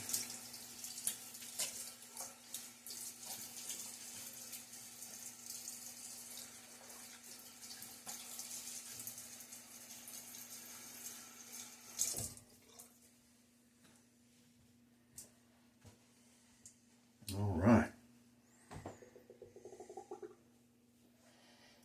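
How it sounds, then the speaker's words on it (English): Tap water runs steadily into a sink while a razor is rinsed, a hissing stream for about twelve seconds, then it stops, followed by a few faint clicks and a louder splash or knock near the end. "Rinsed out my razor."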